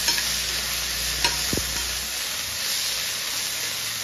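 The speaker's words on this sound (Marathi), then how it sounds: "थोडंसं फ्राय करायचं" Poha with a splash of soy sauce stir-fries in a pan, giving a steady soft sizzle with a few brief scraping stir sounds partway through, close and fairly quiet.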